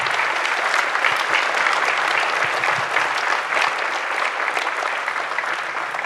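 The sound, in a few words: audience applause at induction ceremony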